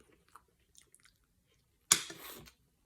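A person eating Lao food chews close to the microphone, with soft, sparse mouth sounds followed by a short burst of louder crunchy chewing.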